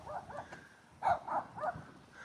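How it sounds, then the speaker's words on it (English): Dog barking outdoors at a house: a few barks and yips at moderate distance, with a louder cluster of three barks in the second half. "Now this dog will bark at me."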